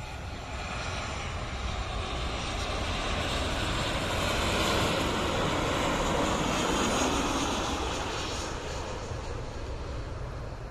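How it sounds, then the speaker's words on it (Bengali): A Boeing 737 airliner roars steadily overhead on approach to land at Dhaka airport, its engine noise swelling louder toward the middle, then holding a broad, rushing drone. "বোয়িং 737 মডেলের একটি বড় বিমান ইউএস বাংলা এয়ারলাইন্সের চট্টগ্রাম থেকে এখন ঢাকায় অবতরণের জন্য এগিয়ে আসছে।"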